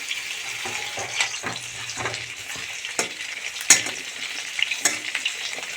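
Food cooking in a little oil in a covered pan, a soft continuous sizzle broken by faint scattered pops and taps, close and fairly quiet.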